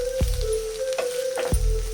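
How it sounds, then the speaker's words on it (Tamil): Onions fry in a pan while preparing a goat intestine (mutton boti) fry, giving a steady, soft sizzle over a constant low hum, with a few dull knocks. "வெங்காயம் வந்து நல்லா ஃப்ரை ஆயிடுச்சு"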